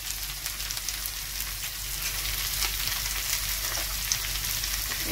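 Shredded cabbage with a little turmeric frying in a pan, a steady, even sizzling hiss with faint stirring scrapes, close by and continuous, no voices.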